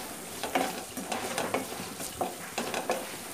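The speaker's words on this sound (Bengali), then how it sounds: "ভালো করে নেড়ে চেড়ে নেব।" Tomato, onion and green chili masala with salt and turmeric is stirred in a pan for a boirali fish curry; repeated scraping strokes come in bursts over a gentle, constant sizzle, close and without speech.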